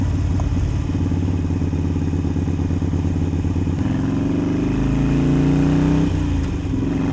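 A Harley-Davidson Iron 883 motorcycle is ridden slowly through corners in cold weather. Its engine drones steadily and loud throughout, and the pitch shifts as the rider eases off and rolls back on around the bend.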